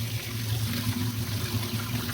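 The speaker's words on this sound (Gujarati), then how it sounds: "આપણે હવે એને બેથી ત્રણ પાણીએ વોશ કરી લઈએ" Thick poha (flattened rice) is washed in water, giving a quiet, continuous sloshing and trickling of liquid over a low steady hum.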